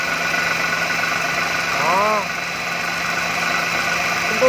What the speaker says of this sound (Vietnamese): Test luôn phần máy cho anh chị coi nhé